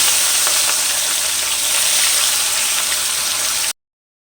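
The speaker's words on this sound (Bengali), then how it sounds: "তেল গরম হয়ে গেছে ওই তেলের মধ্যে আমি একটা একটা করে মাছগুলোকে ছেড়ে দিচ্ছি" Pieces of rohu fish, salted and coated in turmeric, sizzle in hot oil with a steady, loud, close frying hiss that holds evenly for several seconds and then cuts off abruptly.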